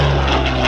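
A Hawker Hurricane Mark 1 fighter, built in 1943, drones steadily at an airshow, its piston engine a loud, continuous broadband roar with a low hum and no voices.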